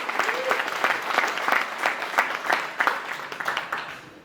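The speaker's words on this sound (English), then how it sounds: "big round of applause." An audience gives another round of applause for Darryl, brisk, close-sounding clapping that rises quickly, holds steady for a few seconds and then starts to thin out.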